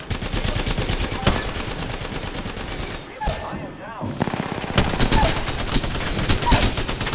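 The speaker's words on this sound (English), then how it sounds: "Oh, where am I being shot from?" Rapid automatic gunfire crackles in the Apex Legends battle royale game, dense bursts of shots with a short lull in the middle before another loud, fast volley.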